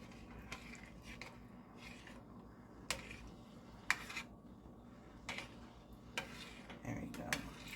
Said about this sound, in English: Now we want to stir this. Get that cheese all melted in there.